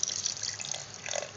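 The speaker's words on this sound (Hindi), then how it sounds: "और पानी थोड़ा सा डालूंगी" Water poured from a tap into a blender jar for mango pudding, a steady close splash and trickle running throughout with no talking.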